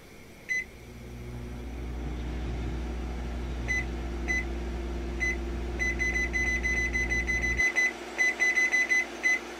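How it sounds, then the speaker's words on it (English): A microwave oven hums steadily for several seconds, then shuts off, followed by a string of high, evenly spaced beeps signalling the end of the cycle. "Now I just microwave for a bit."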